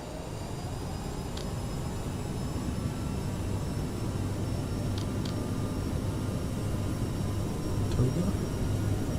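An Aerosoft CRJ jet in Microsoft Flight Simulator rolls for takeoff, its engines giving a steady, loud broadband roar and rumble that holds evenly throughout, with a few faint high tonal chirps on top.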